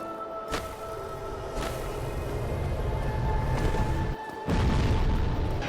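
The Moonlight Butterfly in the video game Dark Souls explodes in deep, rumbling booms with whooshing bursts, the loudest near the end, over a steady game background tone.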